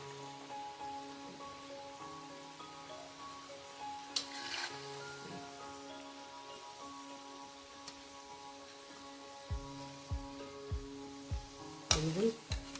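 Gujiya frying in oil over a low flame for Holi gives a soft, steady sizzle throughout, with faint background tones and a couple of brief clatters near the end.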